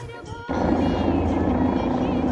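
A loud, steady helicopter drone near Kedarnath starts abruptly after a brief quieter moment and carries on continuously, with a voice faintly underneath.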